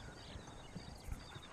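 Horse hooves clip-clopping at a steady walking rhythm in the Red Dead video game, fairly faint and quiet with a few slightly louder hoof strikes, no talking.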